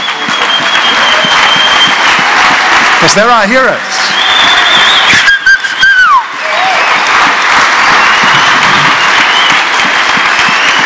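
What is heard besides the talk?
audience applause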